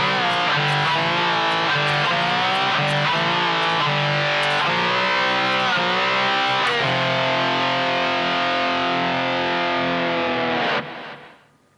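Distorted rock slide guitar playing the second part of a riff, a loud, sustained electric tone of gliding notes and bends that rings on steadily before being cut off near the end, with no voice.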